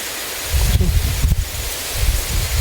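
Gusty wind buffets the microphone in low rumbling waves, swelling and easing over a few seconds with no one talking.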